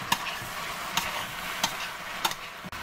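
A spoon stirs yam pieces in a pot, making several sharp knocks at roughly even intervals over a soft, quiet bubbling sizzle, close by.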